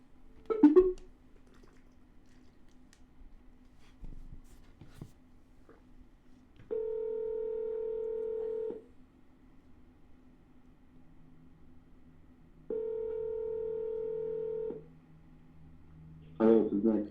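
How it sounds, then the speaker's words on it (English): Two steady telephone tones, each about two seconds long, sound from a phone being dialed during a business call, separated by a quiet gap with brief bursts of noise at the start and end. "Calling him with the wrong phone number."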